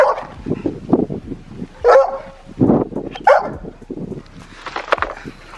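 A dog barks repeatedly at close range, a string of sharp yips and barks with short whimpers between, loud and irregular, with no talking over it.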